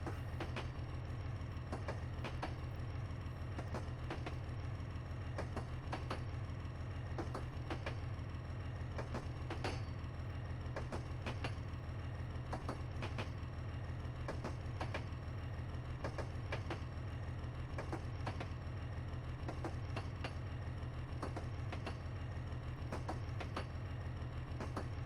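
A train runs steadily in Train Simulator Classic, a loud, constant low engine drone with regular rhythmic clicks of wheels over rail joints throughout, no voices.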